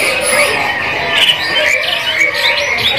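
Dark-coloured loper canaries at a bird market kiosk give continuous squawks and chirps, several birds calling at once over steady market background noise.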